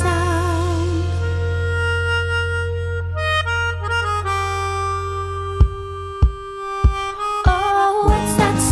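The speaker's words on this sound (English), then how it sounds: "That's the sound of a melodica." Melodica playing sustained reedy tones with a wavering pitch, then a run of short, separated notes that end in sharper bursts toward the close.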